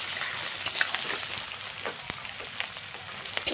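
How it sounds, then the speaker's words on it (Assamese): Finely chopped onions, about 250 grams, fry in hot oil with bay leaves in a pan to make crispy browned onions, giving a steady close sizzle dotted with sharp crackles and pops from stirring, with no voices. "এনেদৰে পিঁয়াজখিনি ভাজি লৈছোঁ"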